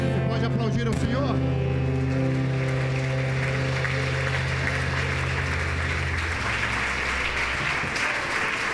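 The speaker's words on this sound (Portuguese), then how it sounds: "Você pode aplaudir ao Senhor?" A church congregation applauding during a worship service: dense, steady clapping fills the space for several seconds as sustained musical tones fade out at the start.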